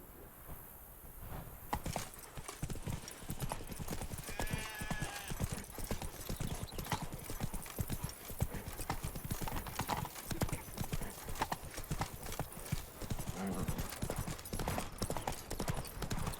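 Horse hooves galloping in The Witcher 3 video game, a fast continuous clip-clop rhythm close up, with a brief neigh and occasional game voices under it.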